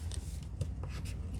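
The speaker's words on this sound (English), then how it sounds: "So now I'm going to use my bone folder to make sure these will peel a little bit easier for me." A bone folder rubbed firmly over card while making Christmas cards, giving a few soft scraping swipes close by.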